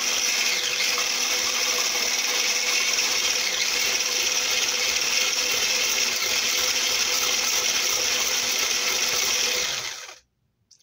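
An electric mixer whirs steadily, loud and close, beating eggs, cream, and salt for an onion tart; the motor runs without a break for about ten seconds, then cuts off abruptly.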